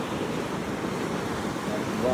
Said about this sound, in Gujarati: એના મોજા જોરદાર.